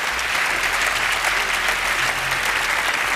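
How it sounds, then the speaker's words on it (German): Studio audience of a German TV game show breaking into steady, dense applause, a loud continuous wall of clapping with no talk over it. "Ihr Applaus."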